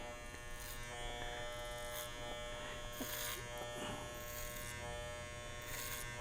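An electric hair clipper cuts hair over a comb while blending front hair into the sides, giving a steady close buzz with brief brighter bursts as the blades bite through hair.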